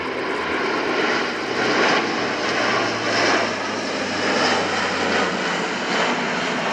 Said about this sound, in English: Here we see the aircraft coming down with undercarriage down in the dirty configuration